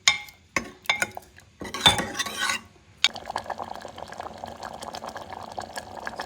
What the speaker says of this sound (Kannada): ಚೆನ್ನಾಗಿ ಕುದೀತಾ ಇದೆ